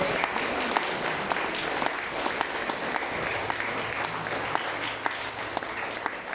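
Church congregation applauding loudly for the Holy Spirit, steady massed clapping with a few sharper claps near the mic and a low sustained tone underneath.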